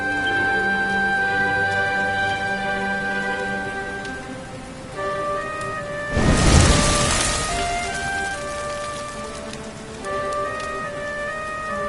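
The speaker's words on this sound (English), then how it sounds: "Looks like the rain's dying down." Steady rain hisses through a scene in the video game Dragon Quest XI, with a game music score layered over it and a louder swell of rain partway through.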